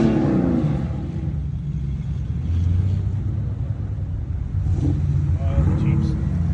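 An old car rumbles past on the road, a low engine drone that swells and fades over several seconds, heard outdoors beneath a voice talking to a child.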